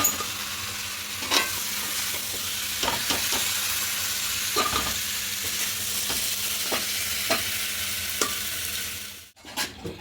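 Chicken mixture with potatoes fries and gets stirred in a pressure cooker, making a steady close sizzle broken by scattered clicks of the spoon, with a brief drop near the end.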